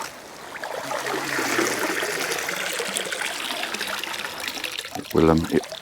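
Water gushes and splashes steadily for several seconds as it pours out of a Bestway pool filter housing with the lid off, loud and close, ending with a brief voice near the end.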